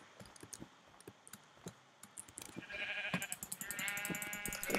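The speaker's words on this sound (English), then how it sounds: "Sheep." Minecraft sheep give repeated quavering bleats that grow louder and overlap in the second half, after a stretch of light ticking clicks, with no speech.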